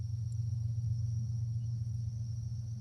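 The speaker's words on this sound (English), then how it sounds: "that's a train right behind me, about 2 miles away or so" A train about two miles away gives off a deep, steady low rumble, faint and distant, continuous throughout with a thin high tone above it and no talk.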